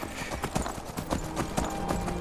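A Dawnguard patrol's horse in Skyrim clip-clops ahead on the road, a quick run of clear hoof strikes at moderate loudness with faint background ambience.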